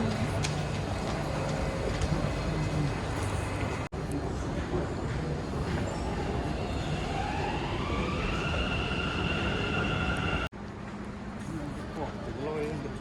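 An underground metro train rumbles steadily, its motor whine rising in pitch as it pulls away, with voices chattering nearby.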